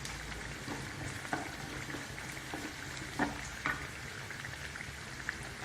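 Red chilies fry in hot oil for a bitter gourd dish, a continuous soft sizzle with scattered louder pops and crackles spread through the clip.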